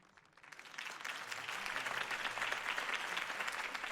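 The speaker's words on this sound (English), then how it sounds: "could have heard that applause" Crowd applause after a campaign speech in Batman: The Telltale Series video game, dense clapping that swells quickly and holds steady at moderate volume.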